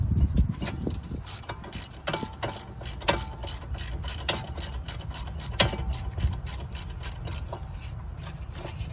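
A hand ratchet clicks rapidly and steadily while loosening a rusted rear caliper bracket bolt on a 2013-2017 Honda Accord, with close, loud, continuous pawl clicking in repeated strokes and a few metallic knocks.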